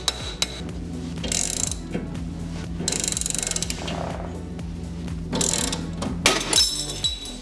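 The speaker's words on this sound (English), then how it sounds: "Now that that stuff has finally arrived, we can proceed to pressing out all the ball joints." Work on the suspension of a BMW E34 while ball joints are pressed out, heard as loud close ratcheting clicks in repeated runs with short metallic clinks between them, and nobody speaking.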